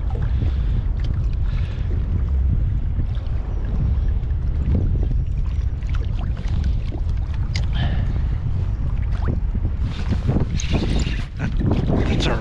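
Breezy morning wind rushes across a microphone on a kayak out fishing on Western Long Island Sound, a steady low roar with water sloshing and occasional sharper gusts, heard alone without talk.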